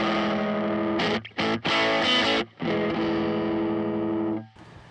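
Distorted, fuzzy electric guitar chords through a Dirty Haggard Audio fuzz pedal set at 6 ring out in several bursts, thick and buzzing, with short gaps between strums and no voices.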